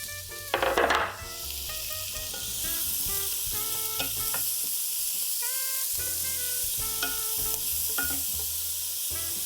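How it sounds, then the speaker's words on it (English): Diced onion and celery hit hot olive oil with a sharp splash and then keep sizzling steadily, with occasional light stirring clinks from the pan. "I'm just going to add a tablespoon or 2 of olive oil. And to that, I will add our diced onion and celery."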